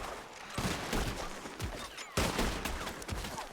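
Rapid gunfire in a Red Dead Redemption 2 gunfight aimed at enemies up in the trees, dense overlapping shots and bursts filling the whole stretch, loud and continuous.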